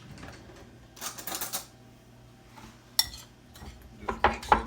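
A spoon scrapes and clinks against a mixing bowl while stirring sweet potato pecan pie filling, with bursts of clattering strokes spaced out over a few seconds, fairly close and moderately loud.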